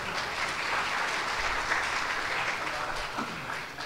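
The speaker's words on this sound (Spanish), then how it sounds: "Pueden darle un aplauso." A church congregation applauding together, steady dense clapping sustained throughout with a faint voice mixed in underneath.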